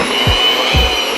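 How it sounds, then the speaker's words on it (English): Cream cheese and butter being blended in a bowl with a steady electric mixer whir that runs continuously, with a couple of brief low thumps mixed in and no talking. "blend those together in a bowl"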